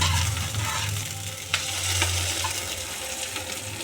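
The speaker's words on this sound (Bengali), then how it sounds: "রসুন কুচিগুলো দিয়ে দেব দিয়ে হালকা নেড়ে নেব" Chopped garlic frying in a pan for a spicy jackfruit curry, a steady close sizzle with a few soft scraping stirs and clinks of a spoon against the pan.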